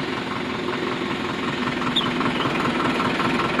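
A Farmtrac 6055 Powermaxx diesel tractor engine runs with a steady, throbbing rumble and a rhythmic knocking pulse, loud and close with no pauses.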